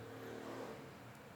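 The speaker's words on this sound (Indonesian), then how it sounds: "Ya Allah, ini motor bisa nggak sih diam dulu." A motorbike passes outside. A faint, distant engine drone rises and falls behind a quiet room, with no speech.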